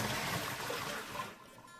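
A pot of cooked cauliflower and hot water is poured out into a sink, giving a steady rushing splash that thins toward the end, close and moderately loud.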